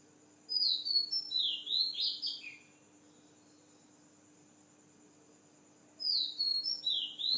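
Birds chirping in a hibiscus tree: bursts of high, quick tweets for about two seconds, a quiet pause with faint insect hiss, then another chirping burst, fairly close and alone without talk.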